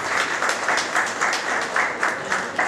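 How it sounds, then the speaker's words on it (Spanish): Students applauding together in a room, a steady, fairly loud patter of many hands with gently pulsing surges over a few seconds. "Háganse sentir un poco,"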